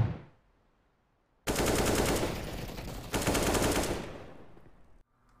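Sustained rapid automatic gunfire in Counter-Strike, a loud continuous burst lasting several seconds with a brief break and a second volley, then stopping abruptly.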